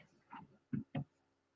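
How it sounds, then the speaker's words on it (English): Knuckles rapping on a window, three short hollow knocks, the last two louder and close together, in a quiet indoor room. "I'm going to knock on my window."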